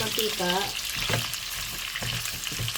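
Pork fries until crisp in its own rendered fat in a pan, giving a close, steady, hissing sizzle with stirring scrapes. A brief voice is heard near the start.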